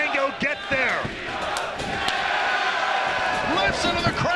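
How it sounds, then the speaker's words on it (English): Wrestling crowd at a TNA Rebellion event in Toronto, a dense continuous roar of cheering and shouting voices with loud yells rising over it throughout. "Listen to the crowd here in Toronto"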